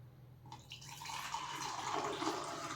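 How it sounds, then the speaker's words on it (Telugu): Water poured from a full metal pot into the tank of a small humidifier, starting after a brief pause and growing into a steady close splashing trickle. "కాబట్టి మనం సగం కంటే కొంచెం ఎక్కువ మాత్రమే నీళ్ళు పోద్దాం."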